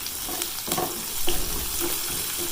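Garam masala, salt and red chili powder fry in a pan for a Pakistani mash daal dish, sizzling steadily up close while a spoon stirs with soft scraping taps.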